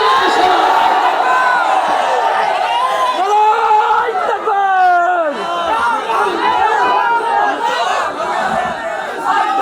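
A large crowd at an Islamic gathering chants the takbir, with loud, overlapping voices rising and falling together and a strong, continuous roar of many people.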